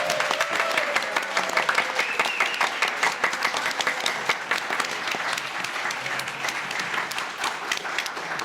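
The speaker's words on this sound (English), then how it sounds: "I'd like everybody here to please give a round of applause for our panelists." Sustained applause from an audience at a panel discussion, dense clapping held steady throughout at moderate level with no talking over it.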